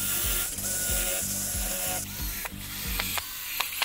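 A small drill bores holes through an MDF board in short repeated bursts, giving a close, pulsing mechanical grind with a few sharp clicks near the end.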